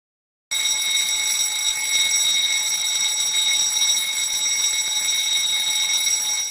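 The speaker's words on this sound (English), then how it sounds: "Upon hearing the alarm bell activation, stop all work" An electric emergency evacuation alarm bell rings continuously and loudly, a steady metallic ringing that starts abruptly and holds without pause.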